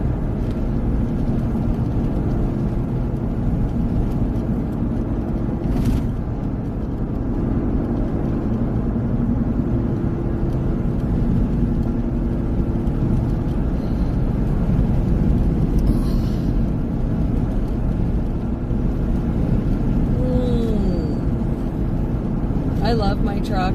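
Cab interior of a truck driving on a road in the dark, a steady, continuous low engine and road rumble that stays even throughout.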